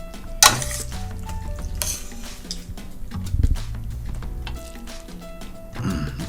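Cooked garlic green beans with shallots slide from a pan onto a plate, with utensils scraping and clinking against the cookware over a faint sizzle, a sharp clatter near the start and another near the end.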